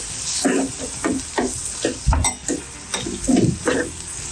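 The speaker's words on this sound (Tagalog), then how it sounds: "Haluin." Tofu stirred with soy sauce and sugar in a pan, a repeated rhythmic scraping and clatter of a utensil against the pan, several strokes in a row with a light sizzle beneath.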